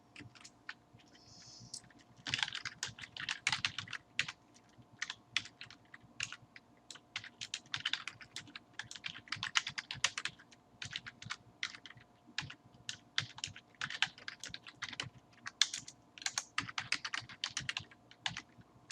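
Rapid, irregular keystrokes on a computer keyboard while writing Python and R code. The clicks arrive in dense bursts with short pauses, close and clear, and no voice is heard.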